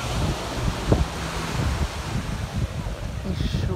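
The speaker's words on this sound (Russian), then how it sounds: "Волны." Ocean waves wash along the shore at Fremantle, a broad steady rush of surf mixed with wind noise on the microphone, continuous and fairly loud with no clear breaks.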